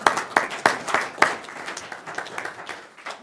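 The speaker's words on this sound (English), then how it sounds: "Are we clapping for Brian or Kathy right now?" Applause at a Riverton, Wyoming city council meeting: a small room of people clapping, with sharp individual claps standing out early before the sound thins into lighter, scattered clapping.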